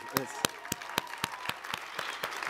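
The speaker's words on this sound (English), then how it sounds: "let's give them another round of applause" A conference audience at a national after-school summit claps in a strong, evenly paced rhythm of sharp, bright claps, close and loud, with an ongoing crowd murmur beneath.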